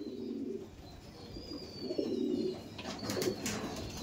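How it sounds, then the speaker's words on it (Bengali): Andhra pigeons cooing close by in a few soft, throaty bursts, with faint chirps in the background. "এবার আসছে আন্ধ্রা পায়রার মধ্যে আন্ধ্রা পেয়ার আপনার সামনে তুলে ধরছি"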